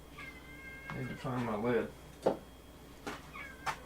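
A house cat meows several times close by, one drawn-out call followed by shorter chirps, mixed with a person speaking briefly in a kitchen.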